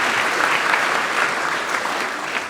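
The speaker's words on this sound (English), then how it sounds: "Can we have a big round of applause" An audience claps at PyCon UK lightning talks, a dense, even wash of many hands applauding continuously and fairly loudly, with no voices rising above it.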